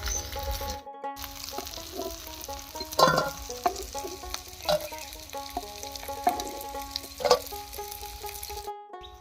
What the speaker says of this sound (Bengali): যে বড়াগুলো আগে দিয়েছিলাম ভাজা হয়ে গেছে ওইগুলো নামিয়ে নিচ্ছি